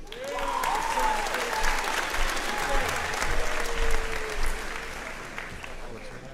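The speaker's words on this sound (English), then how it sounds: "Please hold your applause." A crowd applauds at a high school commencement in a large venue, moderately loud clapping that rises and falls in waves, with voices and cheers scattered through it.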